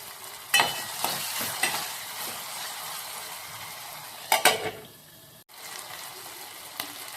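Tomatoes fry in a pan with a steady close sizzle, broken by several sharp scraping stirs and clinks of a spoon against the pan.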